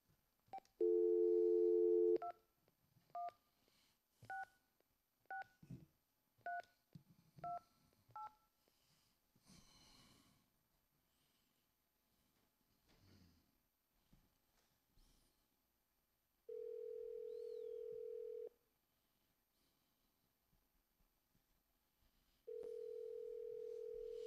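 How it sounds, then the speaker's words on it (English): A telephone call is placed: a dial tone, then a quick sequence of dialing tones, followed later by two steady sustained tones, all faint in a quiet room. "answer the phone when I call you"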